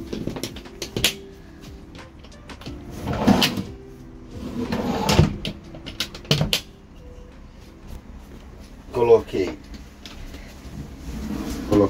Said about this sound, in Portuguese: Aí colocamos várias gavetas.